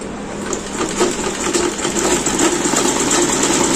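A domestic sewing machine stitches a pajama at home, a steady fast mechanical whir with faint ticking running continuously and fairly close.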